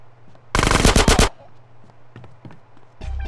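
Loud burst of rapid automatic gunfire from GTA San Andreas, a dense volley lasting under a second, followed by quieter scattered shots and a low background hum.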